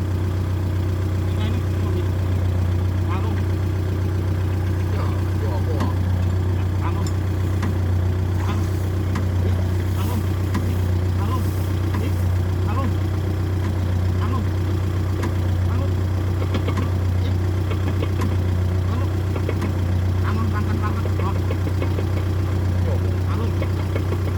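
Kubota tractor engine labouring while stuck in mud, a loud steady low drone that holds throughout with faint rattles and muffled voices in the background.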